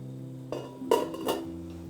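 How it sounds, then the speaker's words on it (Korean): A lid set down on a simmering pot of doenjang stew with tofu, oyster mushrooms and spring shepherd's purse gives a few close metallic clinks and clanks over a faint background hum. "냉이, 이렇게 넣고서는 뚜껑을 잠시 덮고 5분 정도 끓여주세요"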